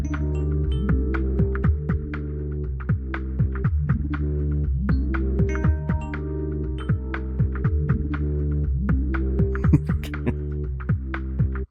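A time-stretched beat looped in the Reaper DAW, with a steady droning, throbbing low bass tone, repeating pitch-bending swoops and regular sharp percussive hits over about twelve seconds, slightly warbly and artificial, without any voices.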